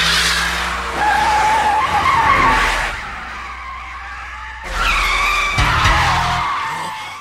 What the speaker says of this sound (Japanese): 連続逆ドリフト。